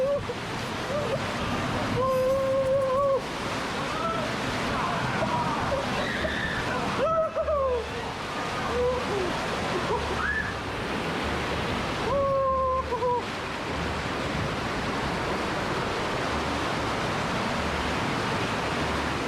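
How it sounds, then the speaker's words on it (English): Rushing water splashes steadily at the Rapids water park in the Bahamas, a broad continuous wash of spray and churn, with voices and a few squeals rising over it now and then. "let's have some fun in the Rapids water park"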